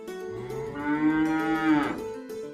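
A cow moos softly in one drawn-out, gentle low call that rises and falls over about two seconds, close by and alone.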